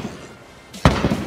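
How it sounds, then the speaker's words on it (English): A gunshot at tactical shooting practice, a sharp loud crack near the end that rings out briefly after a quiet lead-in. "Two shots on the circle."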